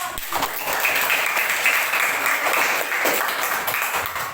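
Classroom applause from students for a group that has just presented, a steady dense patter of many hands clapping close by for about four seconds, with no talk over it.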